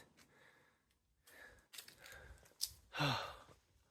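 A person out on a hiking trail breathes hard, with a few heavy sighs and gasping breaths, the loudest burst near the end; the panting sits close to the mic with faint outdoor background.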